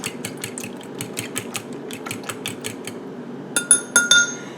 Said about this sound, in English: We are going to whisk this up